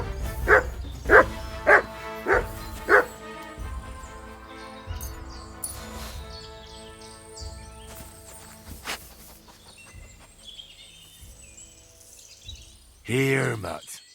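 Dog in the medieval RPG Kingdom Come Deliverance II gives a run of four loud barks, then softer whines and snuffling over quieter game ambience with hooves and birds, ending in a short burst of noise.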